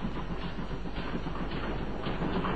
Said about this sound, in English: The famous sealed train that no one might leave nor enter on its journey.